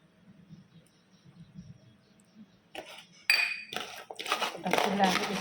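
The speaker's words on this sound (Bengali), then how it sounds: "চাল কুমড়া, সরষের তেল দিয়ে চিংড়ি মাছটা মেখে নিচ্ছি।" Prawns and ash gourd are mixed with mustard oil in a bowl. After a near-silent start, close utensil clinks and knocks against the bowl come in and build, some louder than others.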